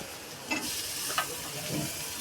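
Onions frying in a pan for a prawn masala, a steady dense sizzle close by with a few soft scrapes as they are stirred.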